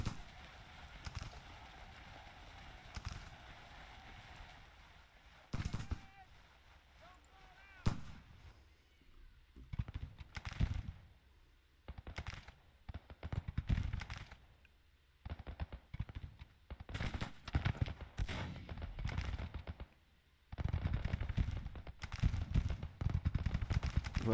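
Civil War-era gunfire in the strategy game Grand Tactician: scattered musket volleys and heavier booms come in irregular bursts, some sharp and close, others distant, with quieter gaps between them.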